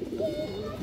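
A pigeon held in someone's hand gives a brief, soft, low coo, faint and close, lasting under a second.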